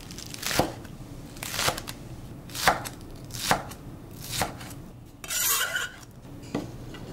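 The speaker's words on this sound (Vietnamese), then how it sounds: "Còn phần lá hành thì mình cũng cắt nhỏ ra luôn." A knife chops green onion leaves on a cutting board for an egg and tofu dish, with about seven sharp, separate strikes at a steady, unhurried pace, close and clear, plus a short scraping sound near the end.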